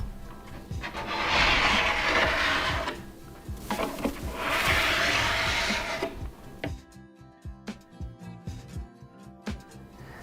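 A file pulled along a snowboard's steel edge makes two long, loud rasping strokes, then lighter scraping and handling knocks follow; no talking.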